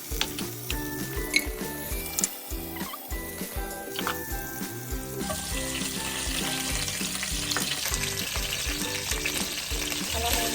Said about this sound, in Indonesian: Kita tinggal memasukkan, menumis bumbu-bumbu ya untuk tadi.